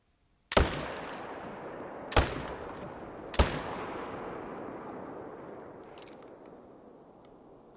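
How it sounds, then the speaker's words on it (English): Three loud, sharp hunting rifle shots in theHunter: Call of the Wild, each cracking out with a long rolling echo across open ground, spaced about a second and a half apart, followed by a faint distant report. "But I would like to shoot this guy first"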